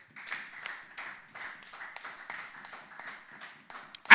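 Congregation clapping in church in praise of the Lord Jesus, a steady rhythmic beat of hand claps at moderate distance, roughly two per second and continuous throughout, with no talk over it.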